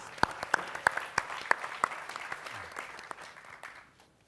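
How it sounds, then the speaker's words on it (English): An audience at a panel discussion on small business applauds a panelist, the clapping fairly thin and distant, with a few sharp individual claps standing out before it gradually fades away. "Let's give Lauren some applause, please."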